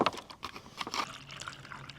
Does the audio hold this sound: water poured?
yes